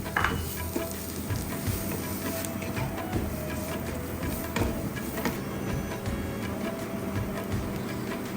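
Turmeric, chili powder and fenugreek powder sautéing in a pan for prawn rice, giving a steady low sizzle with faint scraping, continuous and fairly quiet throughout.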